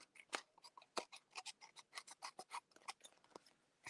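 Scissors snip rapidly through paper, a crisp series of quiet, close cuts in an uneven rhythm.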